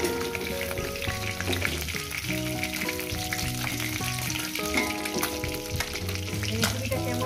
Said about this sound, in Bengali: মাছের মাথাগুলো একটু ভেজে নেব।